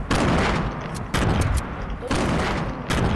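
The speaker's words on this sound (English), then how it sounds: "I have 9 grenades going his way." Grenade explosions burst in a Fortnite match, loud dense blasts arriving in three heavy waves with crackling gunfire-like debris throughout.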